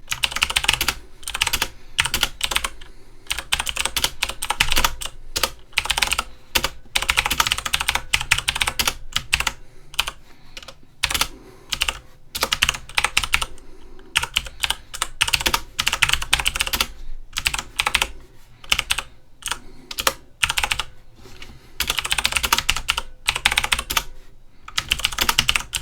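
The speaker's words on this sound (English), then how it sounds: "let's hear the sound of the Cherry MX Blue switch" Rapid, steady typing on a Logitech G910 Orion Spark mechanical keyboard with Cherry MX Blue-style clicky switches, crisp close clicks in bursts with short pauses, alone with no talking.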